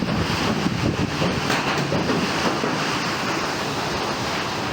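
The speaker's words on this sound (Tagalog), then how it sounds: "makikita ang malakas na hampas ng hangin sa mga puno sa resort na ito" Steady, roaring wind with a broad rushing hiss, loud and continuous, strong gusts tearing through trees at a resort in Lucena, Philippines, with no voices.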